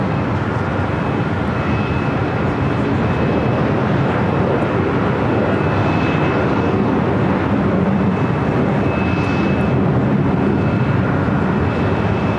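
A Hawaiian Airlines Airbus A330 jet departs LAX for Honolulu, its engines a loud, unbroken broadband roar that holds steady throughout with no voices.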